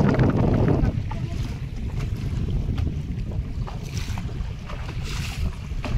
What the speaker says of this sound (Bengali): কিন্তু নদীতে ঢেউ হচ্ছে খুব